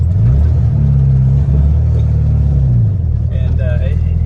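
A Volkswagen with a small 1300 engine fitted with 1.25 rockers runs with a steady low rumbling idle, close and loud, with a slight rise partway through and a voice talking over it.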